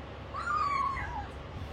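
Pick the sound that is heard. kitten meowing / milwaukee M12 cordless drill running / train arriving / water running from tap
kitten meowing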